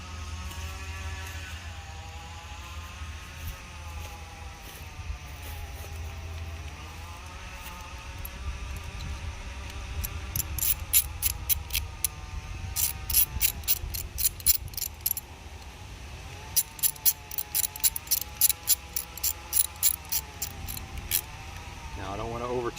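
A ratchet wrench tightening screws on a push mower that sat unused for over three years, clicking in quick bursts of rapid ratcheting over a steady background hum, with someone speaking now and then.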